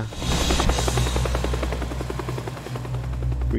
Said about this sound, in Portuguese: Olha o helicóptero, cara!